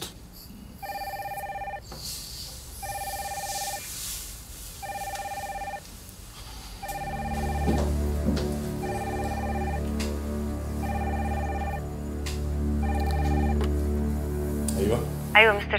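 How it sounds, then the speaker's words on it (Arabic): Telephone ringing with a call on the second line, repeated evenly spaced electronic rings, joined partway by a steady background hum and other sounds. "بس ارد على مدام ليلى، بتتصل على الخط التاني"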